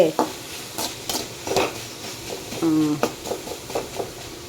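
Onions and dried tuna sautéing in a pan, stirred with a spoon that scrapes in repeated strokes over a steady sizzle, close and fairly loud, with a brief clink of metal midway.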